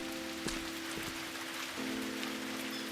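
Steady video game rain patters evenly over a soft hum, close and continuous, with no voices.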